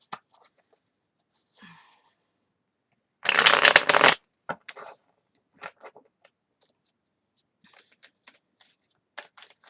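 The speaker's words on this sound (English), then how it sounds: "Why are these Morgan Greer cards not coming out?" Morgan Greer tarot cards shuffled in one loud riffle of about a second, with scattered softer card taps and handling noises before and after in a quiet room.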